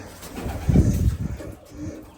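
Soft, low pigeon coos rise and fall a couple of times, fairly quiet and close, with light background noise.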